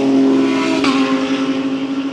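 Race car engines roar through a wooded circuit during a 24-hour endurance race, a steady mix of V8, V6, V10 and V12 note, with one car passing and its pitch dropping as it goes by.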